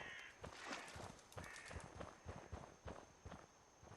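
Crows caw in the Fallout 4 Far Harbor DLC game world, faint harsh calls over a dense, noisy ambient background with steady thudding footsteps.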